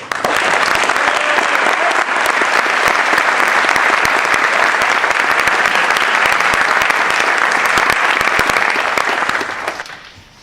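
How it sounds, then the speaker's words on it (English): Loud, sustained applause from an audience welcoming a cartoonist and teaching artist onto the stage at an Ignite talk evening, dense steady clapping for about ten seconds before tapering off at the end. "Let's have a big round of applause for Jerzy Drozd."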